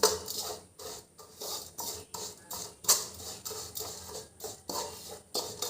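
Sugar melts in a pan while a spoon stirs it, making rhythmic scraping strokes against the metal, close and moderately loud, repeating about once a second.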